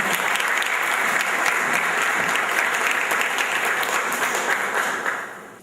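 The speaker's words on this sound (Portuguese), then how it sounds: "E aplausos para a Jussara." Steady applause from an audience at a short-story contest award ceremony, dense and continuous for about five seconds before tapering off at the end.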